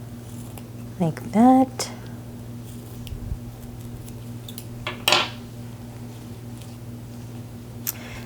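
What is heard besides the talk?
scissors cutting ribbon ends for a lei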